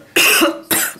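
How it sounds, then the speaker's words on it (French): Two sharp, loud coughs from a person with a sore, scratchy throat, close up, the first longer and the second shorter. "et je tousse"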